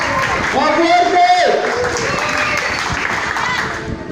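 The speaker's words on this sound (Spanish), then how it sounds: "¡Fuerte aplauso para todos!" A crowd of neighbors at a community bonfire gathering claps steadily, the applause sustained and fairly loud throughout, with voices mixed in.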